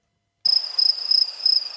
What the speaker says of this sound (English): And even more crickets